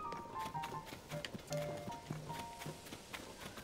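Clip-clop hooves of a horse in the video game The Legend of Zelda: Tears of the Kingdom, faint, steady rhythmic steps under game music with a light tonal backing.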